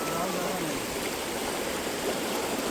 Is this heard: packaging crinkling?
no